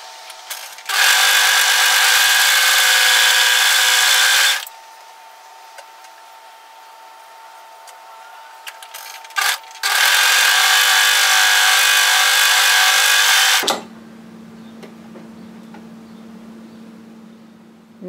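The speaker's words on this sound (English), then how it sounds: "we're going to overlock each edge separately" An overlocker serges the edges of woven fabric for a cape sewing project in two loud, steady bursts of motor whir, each lasting several seconds and separated by a quieter pause, with a softer hum closing out the clip.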